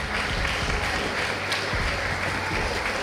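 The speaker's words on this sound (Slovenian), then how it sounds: "En aplavz." A crowd at a high school graduation ball in Ljubljana claps in steady, sustained applause that fills the hall at moderate loudness throughout.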